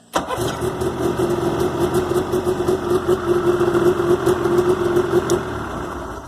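A Yamaha snowmobile engine cranks and catches right away, then settles into a steady, loud running idle close by with a rough, throbbing mid-range tone for several seconds.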